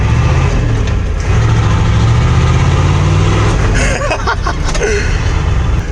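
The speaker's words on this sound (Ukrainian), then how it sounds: "як не можна було почути ось цієї музики, музики атмосферного дизеля V8" Ford F-250 with a naturally aspirated V8 diesel running loud and steady, a deep continuous rumble heard close up throughout, with a few brief knocks near the end.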